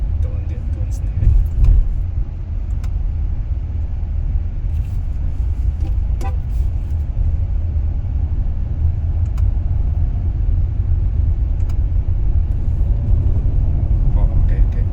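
A Hyundai Santa Fe Hybrid on the move, with steady engine and road rumble continuous throughout. Faint clicks and brief honks of surrounding traffic come through, and there is no clearly audible gear change.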